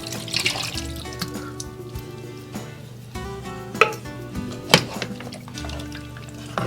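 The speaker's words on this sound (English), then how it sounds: "So now I'm gonna pour in the pineapple chunks with the" Pineapple chunks with their juice pour into a pot of cooking spareribs, giving wet splashing and dripping with a few sharp clinks of metal, close and fairly quiet.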